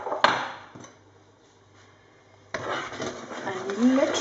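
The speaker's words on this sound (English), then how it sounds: "And you literally just stir it." A batter of flour, beaten egg, milk and oil for raspberry lemon muffins is stirred in a bowl, giving a scraping, knocking rhythm that starts abruptly after a quiet pause, with a sharp knock near the start.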